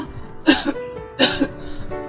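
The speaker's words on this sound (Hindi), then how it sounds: "और तुम इस तरह खांस क्यों रहे हो?" Two harsh coughs come close together, each a rough burst with a short trailing catch, loud and near.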